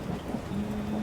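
Cartoon rain patters steadily with a low rumble of thunder beneath it, a short, soft burst with no voices.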